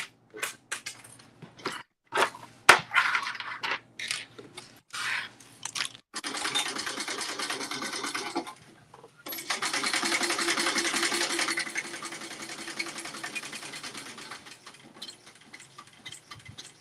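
A sewing machine stitches a fabric accordion clutch bag with a loud, fast mechanical whir in two long continuous runs. Earlier, scattered clicks and handling knocks come close by.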